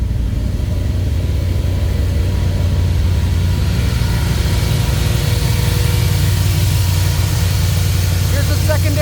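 Car engine fitted with a Holley Sniper throttle body idling steadily at about 1,400 RPM, a continuous low rumble with a slight rise in pitch partway through.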